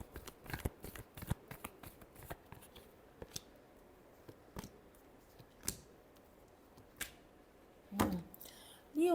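Tarot cards being shuffled by hand, a series of quick crisp riffling flicks and taps, close and quiet, spaced irregularly with a short pause between bursts.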